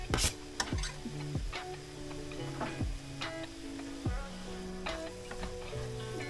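Button mushrooms fry in a pan with a soft sizzle, broken by repeated sharp clinks and scrapes of a utensil stirring them, close and fairly quiet.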